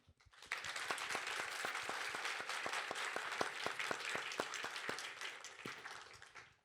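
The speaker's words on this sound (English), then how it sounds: "I just want to have a huge round of applause to our great speakers today" Sustained audience applause for the speakers at a forum on digital asset investment, a full, even roar of clapping with a few sharper nearby claps standing out, lasting several seconds before tapering off.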